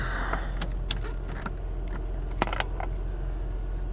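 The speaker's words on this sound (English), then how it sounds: "Windows, up, down, left side. Up, down, passenger side, and that's it for electric windows." Electric car windows driven up and down, short whirring motor runs punctuated by sharp clicks and thuds as the glass stops, close and fairly quiet over a low idling background rumble.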